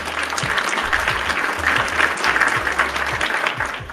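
A burst of applause rings out as a sound effect, dense clapping from a sizeable crowd that holds steady and loud for about four seconds before easing slightly.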